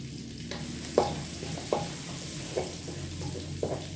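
Garlic frying in oil in a wok, a constant sizzle broken by several sharp spatula scrapes and stirring clanks at a loose rhythm, fairly close, no voices.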